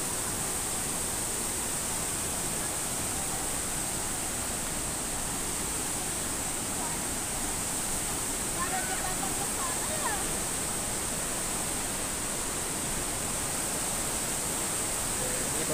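Fast-flowing river water at Curug Ibun Pelangi waterfall, a dense, loud and constant rushing roar filling the whole stretch with no breaks.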